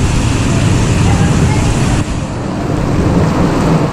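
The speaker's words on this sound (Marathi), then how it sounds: "छानपैकी बाजार फिरत होतो आणि अचानक पाऊस आला" Sudden heavy rain pouring down on an outdoor market, a loud constant roar with rumbling low-end, people talking underneath.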